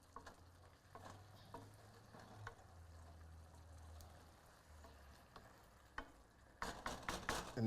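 Chopped flat-leaf Italian parsley stirred into a simmering pan: a spoon scrapes and swirls through bubbling liquid with soft sizzling, and a louder clatter of stirring rises at the end.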